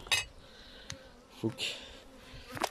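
Honeybees buzz around an opened beehive during a first spring inspection. The close buzzing comes in short swells and passes, with faint light clicks between them.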